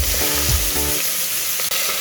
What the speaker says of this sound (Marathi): आता ही आपण कांद्याची फोडणी छानपैकी या तेलामध्ये अशी फ्राय करून घेऊया